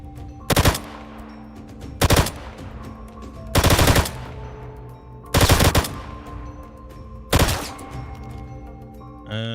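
Weapons fire during a video game raid: five sharp bursts of rapid automatic gunfire, spaced about every one and a half seconds, loud and close, with a ringing tail after each burst.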